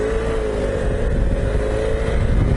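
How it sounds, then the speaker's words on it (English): A motorcycle with a worn-out, knackered clutch being ridden, its engine droning steadily and loud with a low rumbling tone throughout, no voices. "I'll do a demo ride to tell you how to get from A to B on a knackered clutch"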